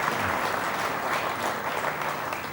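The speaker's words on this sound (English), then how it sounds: "a round of applause" Audience applause at the AIMA Managing India Awards 2014 ceremony, a sustained, even roar of many hands clapping throughout, fairly loud and without talk.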